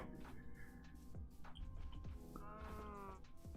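Minecraft sheep bleat a few times, short nasal calls spaced across a few seconds, fairly close over a low steady game ambience.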